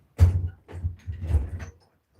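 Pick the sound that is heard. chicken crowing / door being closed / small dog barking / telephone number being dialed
door being closed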